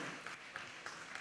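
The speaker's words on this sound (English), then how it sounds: "Clap for the gentleman for 3 marks." A short burst of audience clapping at a church youth week celebration, several soft, fairly faint claps in loose rhythm heard from a distance.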